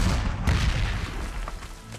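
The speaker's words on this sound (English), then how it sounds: "Let's see what artillery does if I soften them up." Artillery fire in the wartime strategy game Panzer Corps 2: a couple of muffled booms land early in a short burst, followed by a low, rumbling tail that fades at moderate loudness.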